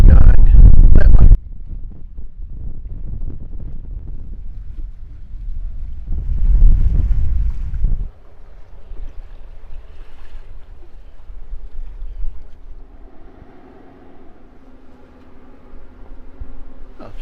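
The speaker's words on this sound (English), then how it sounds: "sitting at 6 to 7 knots on a broad reach, heading up Whangarei Harbour." Sailboat running on a broad reach at 6 to 7 knots up Whangarei Harbour, with steady wind rush and water wash along the hull, a loud gust at the start and another swell of noise midway.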